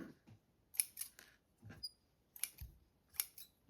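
Scissors snipping thread at close range during a small craft project, several sharp crisp snips spaced irregularly over a few seconds in an otherwise quiet room.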